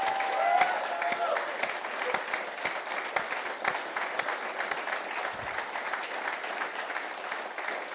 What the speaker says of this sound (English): So a big cheer for our Scottish Labour MPs.